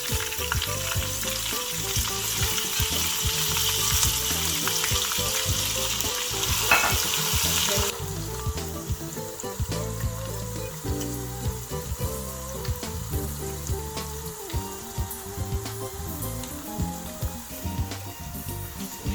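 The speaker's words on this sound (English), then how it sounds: "Add your vegetable oil. Okay, then add your grated onions, then your grated pepper" Grated onions and pepper frying in vegetable oil while cooking chicken pasta give a steady, loud sizzle that crackles continuously, with occasional stirring scrapes and a slight drop in intensity partway through, no talking.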